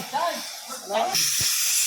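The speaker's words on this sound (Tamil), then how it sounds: "மூணாவது விசில்." A pressure cooker on a wood-fired stove, cooking meat curry, gives a loud, sustained steam-whistle hiss that bursts in midway and carries on to the end, following a few moments of nearby talking.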